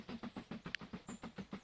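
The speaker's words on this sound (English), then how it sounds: "There's our train." Train from the Mashinky video game running along the rails, a steady rhythmic clickety-clack of wheels over joints, about a dozen evenly spaced beats, faint, with a brief hiss near the middle.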